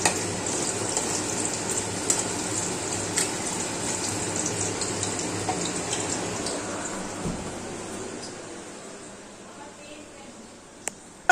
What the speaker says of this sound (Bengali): যে বড়াগুলো সব পুড়ে গেল আমার জন্য বড়াগুলো আমার অনেক কড়া ভালো হয়ে গেছে